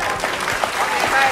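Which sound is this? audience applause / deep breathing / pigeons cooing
audience applause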